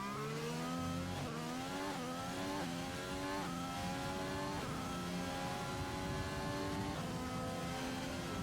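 A race car engine in an Xbox One racing league game screams at high revs through a lap, rising in pitch with repeated quick upshifts, loud and continuous.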